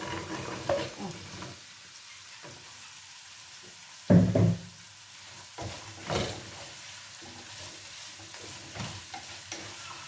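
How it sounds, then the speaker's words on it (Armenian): Green beans frying with chicken in a pan give a low sizzle under stirring and a few louder knocks of the utensil against the pan, with no talk. "Լոբին մի քիչ տապակվի"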